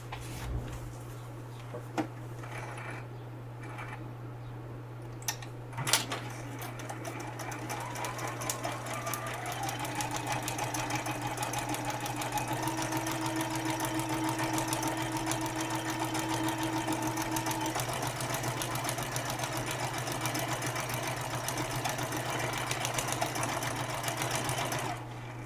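A sewing machine stitches a paper-pieced quilt seam with a steady, fast mechanical whirring and needle chatter that runs continuously and close, after a few light handling clicks at the start.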